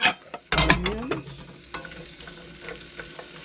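Onions frying in a pan with lobster mushrooms, giving a soft, steady sizzle with utensil scrapes and stirring clatter near the start, fairly quiet and close, with no talking.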